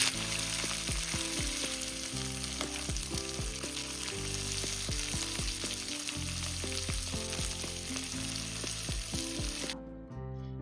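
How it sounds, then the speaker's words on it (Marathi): Mixed vegetables fry in oil in a kadhai with a steady, close sizzle that runs almost the whole time under a tonal musical backing, cutting off abruptly near the end. "सगळ्या भाज्या आपण या तेलावरती मस्त खरपूस असं परतून घेणार आहोत"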